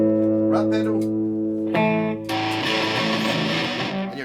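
A Harley Benton seven-string electric guitar is played through a Rat distortion pedal, giving sustained harmonic notes and chords that swell into a dense, loud, fuzzy distorted wash partway through.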